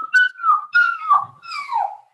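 A person imitates a rich household's dog yelping after a stone is thrown at it: about four close, high, whining yelps in quick succession, with no other sound.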